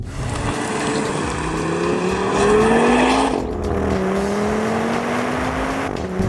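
A 2013 Audi RS Q3 engine while driving, a steady loud drone rising in pitch through the gears, then easing off and climbing again from inside the car, with no talk.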